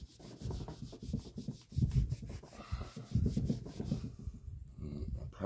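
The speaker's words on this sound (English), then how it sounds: "Start rubbing that in really hard." Hand rubbing wood stain hard into a wooden surface outdoors, a steady close scrubbing and swishing in repeated strokes, fairly quiet with no talk.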